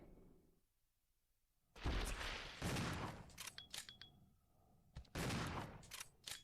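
Shotgun blasts in the survival horror video game Resident Evil Zero, two loud, sharp booming shots a few seconds apart, each followed by a short echoing tail and some clattering game effects in between.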